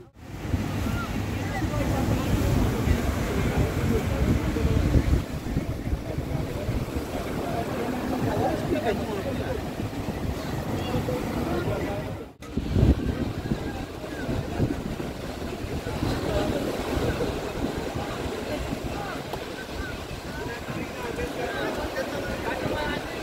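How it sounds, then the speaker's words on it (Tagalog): Strong, steady wind blowing at the seashore on a rainy-season day, roaring continuously over crashing surf with heavy microphone buffeting, loud and close throughout. "Sobrang lakas ng hangin."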